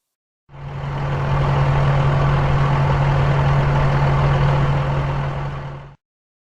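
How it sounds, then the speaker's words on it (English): A bulldozer's engine idles with a strong, steady low hum and a broad rumble, fading in quickly, holding loud and even, then stopping abruptly. "bulldozer"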